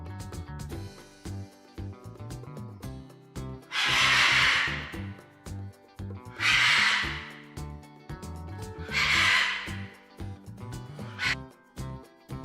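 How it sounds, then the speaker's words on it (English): Four harsh, raspy macaw squawks, each about a second long, come at regular intervals over a bright background music track. "Macaw,"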